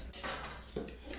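A knife taps and scrapes on a cutting board in a home kitchen, giving a few short, close clinks against soft background noise with no talk.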